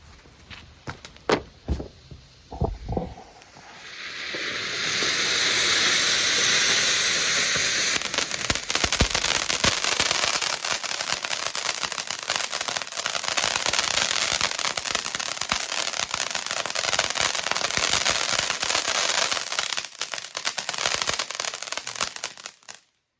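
Two Mardi Gras cone firework fountains burning together, starting with a few pops and clicks, then a loud, sustained hiss dense with sharp crackling that lasts nearly twenty seconds before stopping abruptly.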